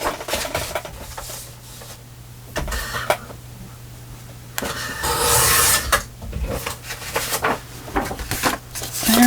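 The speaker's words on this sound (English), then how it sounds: "so I'm going to cut off 1/4 of an inch" Paper is trimmed from a handmade journal page in short crisp snips and rasping strokes, with a longer cutting run midway and brief handling rustles between cuts.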